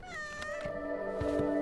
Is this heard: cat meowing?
yes